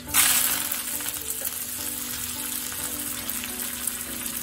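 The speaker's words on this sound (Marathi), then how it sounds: "मोहरी त्याला तळायला लागली आपण टाकायचं लसूण." Mustard seeds, garlic and coriander fry in a hot tempering, a bright sizzle that bursts loudly at the start and then settles into a steady crackling hiss, close and alone.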